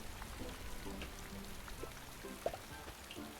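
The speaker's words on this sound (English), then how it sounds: "the rain sound is so loud" Steady rain from the video game Paleo Pines, a soft continuous patter of drops on surfaces that fills the whole stretch at a fairly quiet, even level, with one brief louder tap partway through.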